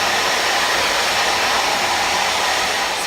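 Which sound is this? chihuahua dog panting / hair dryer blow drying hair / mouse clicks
hair dryer blow drying hair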